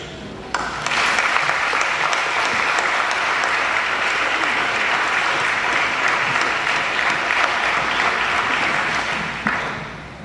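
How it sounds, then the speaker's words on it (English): A graduation audience breaks into loud, sustained applause that starts abruptly, holds steady for about nine seconds, then tapers off near the end. "give all these people here a round of applause for all of their support"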